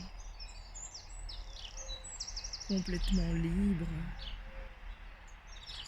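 Birds sing outdoors in a continuous chorus of high chirps and tweets, with a soft voice speaking over them midway.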